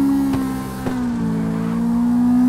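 A Honda S2000 in the CarX Drift video game holds a long handbrake drift, its engine droning at steady pitch with a few faint clicks, moderately loud and continuous.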